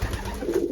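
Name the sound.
racing pigeons cooing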